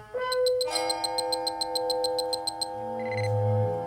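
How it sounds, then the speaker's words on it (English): A starship console alarm from a Star Trek III: The Search for Spock story recording sounds as a rapid series of bright, evenly spaced electronic beeps over a steady tonal hum, ending with a lower electronic tone. "An alarm rang on Commander Chekhov's console."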